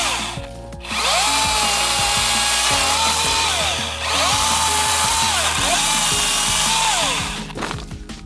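A Milwaukee 18V cordless top-handle chainsaw cuts through small wood and branches with a loud, steady buzzing whine, the motor pitch dipping and recovering three times as the chain bites in, close and alone.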